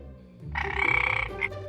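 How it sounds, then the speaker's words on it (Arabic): A frog gives a short burst of rapid, rattling croaks, close and fairly quiet, followed by a brief second croak, with no voices. "frog,"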